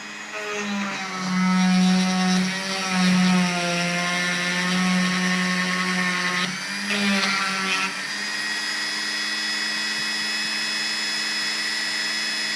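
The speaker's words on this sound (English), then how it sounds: "I just need to open up the holes a bit, which I'll be using my trusty Dremel" A Dremel rotary tool whines steadily, its pitch dipping as it bites into the metal while opening up holes in a broken metal detector coil. The grinding runs close and loud throughout, with no talk.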